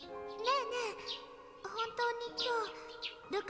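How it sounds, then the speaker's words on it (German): Birds chirp loudly through a scene in the visual novel game Steins;Gate, giving bright, warbling calls in quick bursts with short pauses between them. "Mann, ist das Vogelzwitschern laut in dieser Szene gerade."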